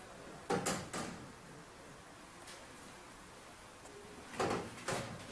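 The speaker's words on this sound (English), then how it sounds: "Easy open the door." The door of a vacuum drying oven with a double-layer glass panel opens with a pair of sharp clacks and a latch click, followed by quiet handling, and then two more clunks near the end.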